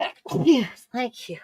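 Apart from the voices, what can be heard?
sneeze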